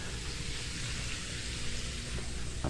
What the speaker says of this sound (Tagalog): Sana tumigil ng ulan